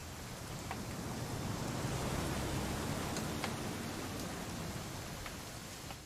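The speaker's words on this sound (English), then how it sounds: "It's gonna rain the whole weekend," Steady rain falling in the video game What Remains of Edith Finch, a dense even hiss with a few sharper drips over six seconds, no voices.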